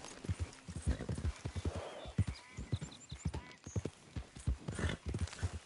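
Horse hooves clip-clop in a steady, loud rhythm with occasional neighing from a horse in the Red Dead Redemption 2 video game on PS5, with brief talk mixed in.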